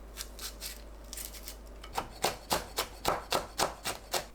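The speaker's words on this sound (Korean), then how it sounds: "고추를 작은 크기로 썰어줍니다." A knife chops chili peppers into small pieces on a cutting board, a run of close, crisp, regular taps that grow firmer and faster after a few lighter strokes, with no talking.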